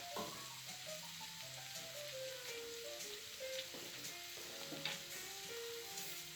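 Cabbage and onion fry in a pan with a constant soft sizzle and occasional stirring clinks, heard up close and quietly over light background music.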